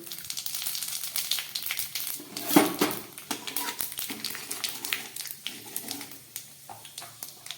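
Bay leaves and five-spice seeds sizzle in hot oil in a wok, with a steady crackle and clinks of a metal utensil against the pan.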